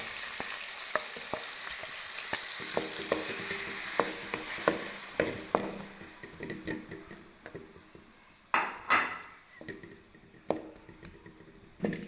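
Chopped onion frying in two spoons of cooking oil, a bright steady sizzle with rhythmic spatula taps and scrapes against the pan, growing sparser toward the end with a few louder clanks, close by, no talk.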